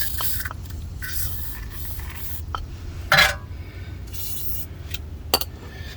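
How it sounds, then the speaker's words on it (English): Short hissing bursts from an aerosol can of penetrating oil sprayed into a Lexus rear brake assembly, one louder spray in the middle among a few brief puffs, with faint metallic handling sounds around them. "spray a little bit of penetrating oil up inside of here"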